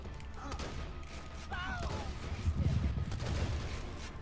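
Shotgun blasts ring out in the co-op shooter Borderlands 2, several loud bursts among game effects and whooshes, with players' voices talking over the action.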